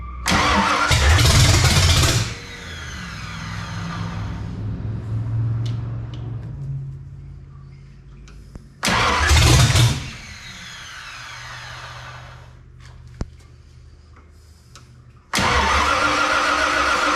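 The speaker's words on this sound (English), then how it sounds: "'69 Mustang Fastback. Please come to life." A 1969 Ford Mustang Fastback is cranked to start after a cam break-in, three loud bursts of starter grinding and engine catching, each followed by a rough idle or dying rumble and quiet gaps.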